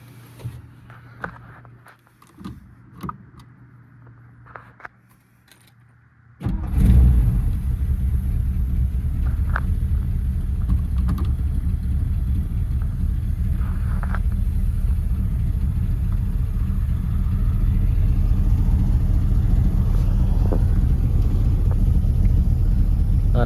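A 1957 Ford Fairlane 500 cranks over after a few quiet shuffles and light knocks, catches with a sudden loud burst, then settles into a steady, close rumbling idle that holds for a long stretch.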